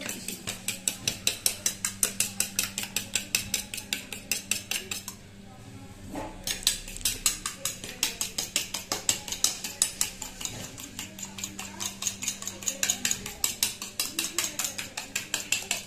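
Rapid rhythmic clinking of a utensil beating chicken nugget mixture with black pepper in a bowl, strokes repeating steadily and loud throughout with a brief pause midway.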